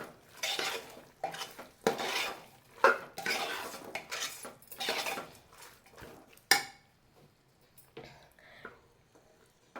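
Vegetables and mushrooms for veg biryani sautéed in a pan over medium heat, with repeated scraping and clinking stirs of a utensil against the pot, close and fairly loud, then a few lighter taps as it quiets.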